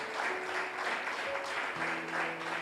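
Congregation clapping together during a church service, a steady dense wash of applause lasting throughout with a faint tonal hum underneath.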